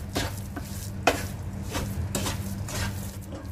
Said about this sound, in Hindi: इसे भी हम अच्छे से मिक्स कर लेते हैं।